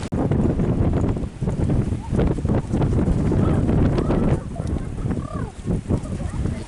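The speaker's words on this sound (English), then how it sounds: "It's a windy day." Wind buffets a microphone outdoors by a lake near effigy mounds on a blustery day, a steady loud rumble with gusty surges throughout.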